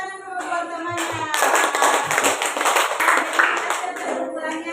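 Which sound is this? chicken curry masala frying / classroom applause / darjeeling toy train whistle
classroom applause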